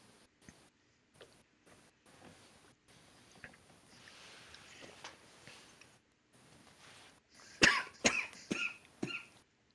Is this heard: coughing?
yes